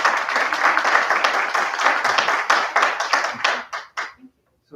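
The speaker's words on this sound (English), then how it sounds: "I would like to ask some of my colleagues in the audience to join me by simply a round of applause" An audience at a school board of education meeting gives a round of applause, a moderate burst of clapping with some voices that thins into scattered claps and stops near the end.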